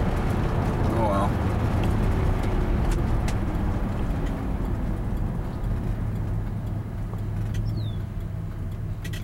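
A 1966 Pontiac Bonneville with a high idle drones steadily while driving, its low engine rumble mixed with road and wind noise, and someone talks over it.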